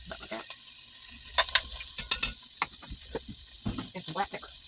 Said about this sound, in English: Here's 1 onion all cut up. Let's pour that in.